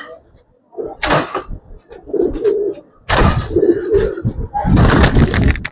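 Giribaz coloring pigeons, silver and chila, coo in low, throaty phrases at close range, broken by sharp bursts of handling and wing-flap noise.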